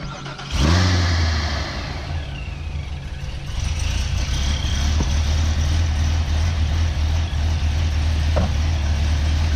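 A C7 Corvette fitted with a Procharger supercharger fires up with a sharp burst, then settles into a loud, deep, rumbling idle that stays steady and close, with a faint whoosh from the blow-off valve.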